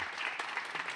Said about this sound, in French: Je pense qu'on peut les applaudir pour